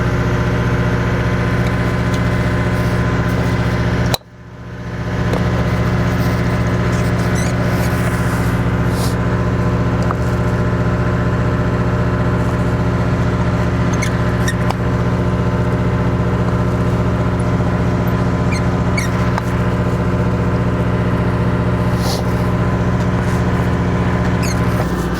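Loud, steady hum of a portable generator engine running close by, with a brief dropout near the start before the continuous drone resumes.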